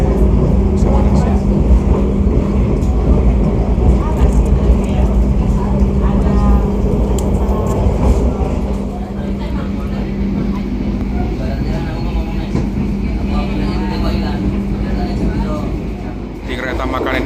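Steady rumble of the Harina passenger train running between Bandung and Surabaya, heard from inside the dining car, a constant low drone with rattling throughout while a person talks over it.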